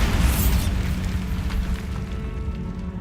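A Bombarda spell blows up in Hogwarts Legacy with a deep, rumbling boom that rolls out and fades over a few seconds, with scattered debris-like crackles.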